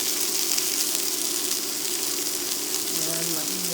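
A stuffed keto burger sizzling in a skillet with avocado oil gives a steady, even hiss of frying throughout, fairly quiet and constant, with a faint tonal clink near the end.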